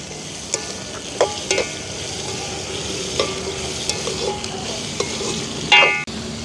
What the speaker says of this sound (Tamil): வெங்காயம் பச்சை மிளகாய் எங்களுக்கு வந்து ஓரளவுக்கு வதங்கிட்டுது